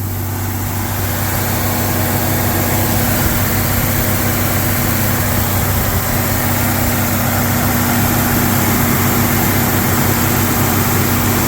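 A freshly rebuilt 1999 Jeep Cherokee engine runs on its first start, holding a loud, steady idle drone with a constant hum throughout and no talking.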